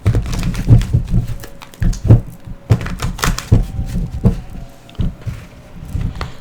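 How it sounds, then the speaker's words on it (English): Tarot cards shuffled by hand during a reading, with repeated soft riffling bursts and dull thumps in an irregular rhythm, close and fairly loud. "I'm just going to go ahead and shuffle this and lay this down."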